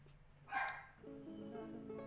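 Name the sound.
dog barking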